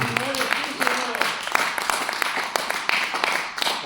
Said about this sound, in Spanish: Denle un aplauso al Señor, iglesia, con toda tu alma